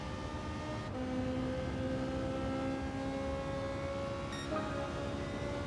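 Racing car engines from Gran Turismo 7 during an online lobby race drone steadily throughout, with sustained tonal whines shifting in pitch as cars run close together, moderately loud with no talking.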